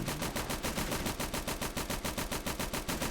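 Rapid sustained automatic gunfire from a weapon in the World War II game Call to Arms: Gates of Hell Ostfront, a steady loud rattling burst of closely spaced shots continuing without pause, with no talking over it.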